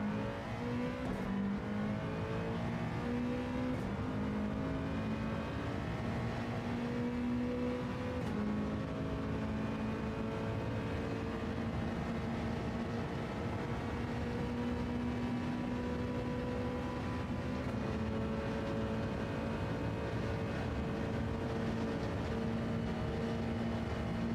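A rally car engine in the WRC racing video game drones and revs steadily throughout, its pitch climbing and dropping through gear changes, loud and continuous with no voices.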